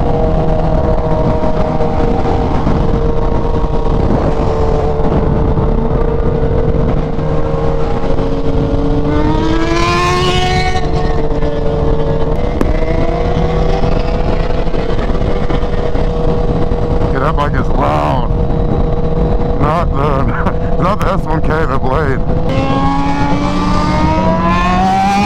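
Superbikes, including a Ninja H2, CBR1000RR-R SP and ZX10, ride on a freeway with loud, continuous engine roar, rising and falling revs as they accelerate, heavy wind noise close to the microphone, and a rider talking over it.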